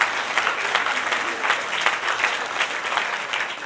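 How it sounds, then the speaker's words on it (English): Audience applause at a book launch, a steady dense clapping from a room full of people that runs evenly through the whole stretch, with no voice over it. "so give them a round of applause"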